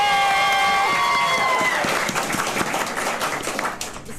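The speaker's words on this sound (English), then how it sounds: "Round of applause for Brenda!" A live audience gives a warm round of applause and cheers, loud at first and then gradually thinning out, with a sustained tone ringing over the opening seconds.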